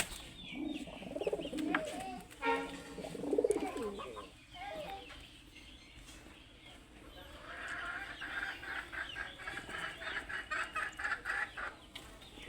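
Pet pigeons being tamed coo and murmur at close range in uneven bursts, with a rapid pulsing stretch toward the end and faint background noise.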